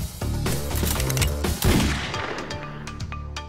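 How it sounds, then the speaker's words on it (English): An 1862 Gatling gun of .58 caliber fires a dense, loud rapid burst of overlapping shots that cuts off after about two seconds and rings out into a fading echo. "the Gatling gun, caliber 58, range 1200 yards. Rate of fire, 200 rounds per minute."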